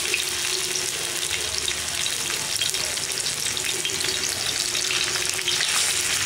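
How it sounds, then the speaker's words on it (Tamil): Fish frying in oil in a pan for Tamil fish kuzhambu, a steady, loud, close-up sizzle that hisses on throughout without pause and with no talking. "இப்போ நம்ம வந்து மீனை ஃப்ரை பண்ணிக்கலாம்."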